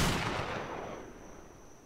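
A single gunshot from a weapon in the Roblox game Wild West, a loud sharp crack whose reverberating tail fades away over nearly two seconds with nothing else heard.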